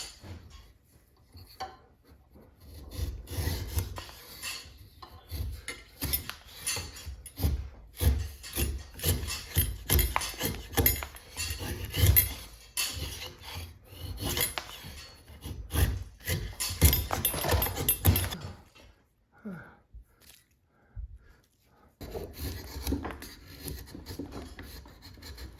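Big Barton chisel cutting soft pine, a series of close, uneven scraping and shaving strokes with woody knocks, intensifying through the middle before a brief pause and a few final cuts.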